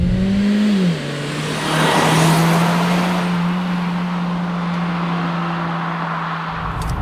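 A Peugeot 508 GT sedan, a 2019 model, drives along a rough road in sport mode, its engine giving a steady, loud drone with a rising pull early on and continuous road and tyre rumble throughout.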